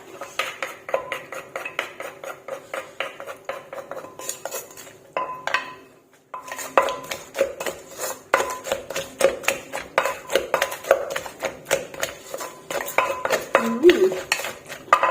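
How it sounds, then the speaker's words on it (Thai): A utensil stirs fried pork with fish sauce in a pan, giving steady rhythmic metallic scrapes and clinks against the cookware, close and fairly loud, with a brief pause near the middle before the stirring resumes. "เดี๋ยวขออนุญาตคนเนี่ยค่ะ"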